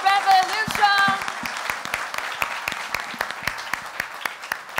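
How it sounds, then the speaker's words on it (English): Sustained applause and clapping from an audience at the launch event for the Vespa Red scooter, steady and dense, with an announcer's voice over the start. "can we have one final round of applause for the Vespa Red and the Red Revolution?"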